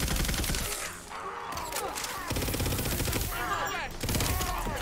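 Rapid gunfire and bursts from the video game Tiny Tina's Wonderlands, dense and continuous across the clip with layered game effects and a voice speaking intermittently over it.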